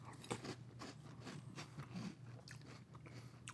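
Cap'n Crunch cereal crunches under close, quiet bites and chewing, a steady series of crisp crackling crunches with no voices.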